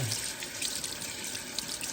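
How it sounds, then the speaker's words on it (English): Tap water runs steadily over rice in a kitchen sink, a continuous close hiss and splash with no speech. "Run some water over your rice, just get it real."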